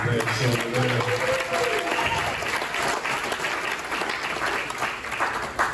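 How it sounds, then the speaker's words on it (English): A room full of people claps in a sustained burst of applause, loud and steady for several seconds. "Good round of applause for that."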